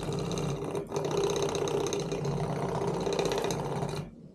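A defective Simagic P-HPR haptic unit on a sim-racing brake pedal buzzes and rattles harshly and continuously for about four seconds at close range, then cuts off abruptly.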